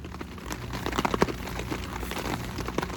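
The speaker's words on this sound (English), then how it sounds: "It's raining." Rain pattering steadily on a tarp over an outdoor cooking spot, a dense wash of soft drops with scattered louder taps, fairly close and even throughout.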